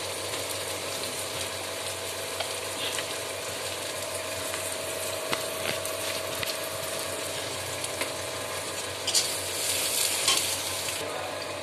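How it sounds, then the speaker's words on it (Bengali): Onions fry in a pan until reddish-brown, a continuous dense sizzle broken by repeated scraping and clicking as a spoon stirs them, close and without talk. "দেখুন বন্ধুরা, পেঁয়াজটা লাল লাল করে ভাজা হয়ে গেছে।"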